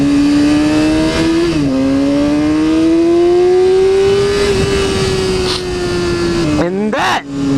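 A gold Yamaha R6 sport bike screams at high RPM, its engine note climbing steadily and holding loud and close before briefly dipping and rising again as a voice talks over it.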